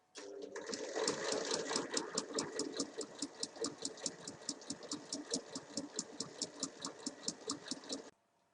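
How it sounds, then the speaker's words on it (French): An overlock serger stitches a side seam on a summer dress in size 40/42, a fast, steady mechanical chatter with even pulses, close and loud for about eight seconds before stopping abruptly, with no talking. "Une fois que les deux côtés sont assemblés, on vient surjeter la couture."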